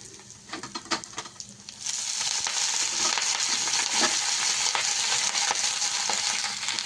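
Drumstick leaves with coconut are sautéed in a pan, with a few sharp clinks and stirring scrapes at first, then a loud, continuous sizzle that fills the rest of the clip.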